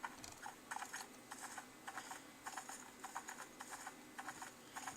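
Horse hooves clip-clop in the horse riding video game Mission Équitation, a quiet, regular patter of light hoof strikes repeating steadily with no voices.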